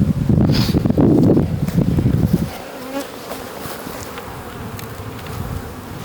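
Honey bees hum loudly and steadily around an open hive frame full of brood, a dense close drone that thins after a couple of seconds to a softer, more distant buzzing with faint rustle.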